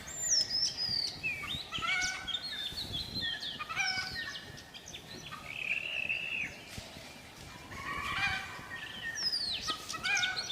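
Wild jungle fowl in Pench Tiger Reserve call repeatedly, their clucks and crowing cries sounding like domestic chickens, several birds heard at moderate distance over a soft outdoor background.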